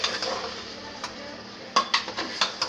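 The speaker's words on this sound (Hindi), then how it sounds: "ये हमारा चिकन इसमें डल चुका, अब हम इसको मिक्स करेंगे।" Chicken being stirred in a cooking pan, with a scattering of light scraping and clinking strikes of a utensil against the metal, sharper taps bunching toward the end.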